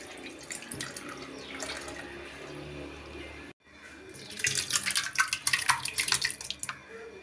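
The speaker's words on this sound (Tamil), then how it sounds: "பருப்பு வேக வச்ச தண்ணி இருந்தது இதையே கொஞ்சம் சேர்த்துக்கலாம்" Lentil cooking water pours and splashes into a pan of vallarai keerai dal, pausing briefly partway through, then resuming louder and more bubbly.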